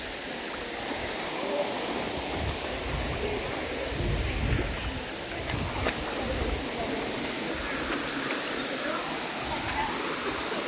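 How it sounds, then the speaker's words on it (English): Steady roar of a waterfall in a Hawaiian rainforest, a broad constant rush with no breaks, loud and continuous throughout. "Waterfall"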